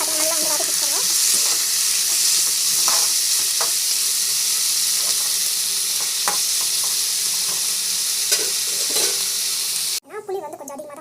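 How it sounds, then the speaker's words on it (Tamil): Onions sizzle steadily in a frying pan, a dense continuous hiss with scattered scraping stirs, close and loud throughout, cutting off abruptly near the end into a brief quieter clatter. "கோல்டு ஆனியன் நல்லா வந்து வதக்கிக்கோங்க."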